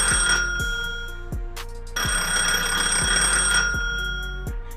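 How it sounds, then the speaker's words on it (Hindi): A telephone ringing, repeated electronic trilling tones in a regular pattern over a low background tone, fairly loud and alone, with no voices. "इतने में वो टेलीफोन बजने लगता है।"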